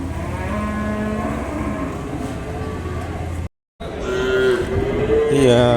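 Cattle and calves lowing loudly at a cattle market in Vaniyambadi, long drawn-out moos close by, one after another, with a brief dropout in the middle and market noise underneath.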